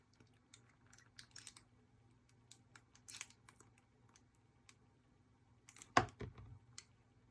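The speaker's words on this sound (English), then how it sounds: "Now I'm going to cut the excess off, otherwise your card won't go in its plastic folder" Scissors snip excess card off a scrapbook layout, giving soft scattered clicks and cuts, close and quiet, with a sharper crinkling cut near the end.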